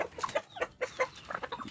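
Bantam chickens cluck inside a coop at close range, quick overlapping clucks and squawks in a busy irregular patter.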